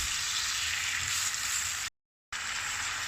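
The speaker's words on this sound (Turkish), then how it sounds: "Domateslerimizi iri iri hafif hafif pişiriyoruz" Chunky tomato pieces gently cooking in an oiled pan with peppers and aubergine, a steady close hiss and crackle of frying that cuts out abruptly for a moment, then carries on.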